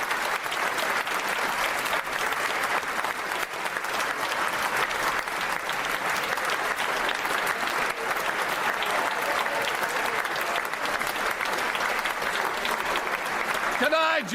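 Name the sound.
applause in the House of Commons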